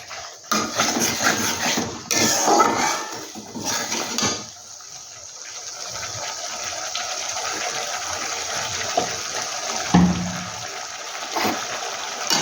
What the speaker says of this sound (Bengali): একটু সামান্য জল দিয়ে দিচ্ছি